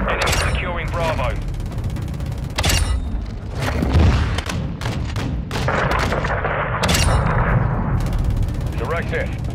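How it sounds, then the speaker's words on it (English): Missile strike explosions in Call of Duty: Modern Warfare II, a series of loud booms and gunfire bursts mixed with battle noise and radio voices throughout. "Missile loaded, clear to fire."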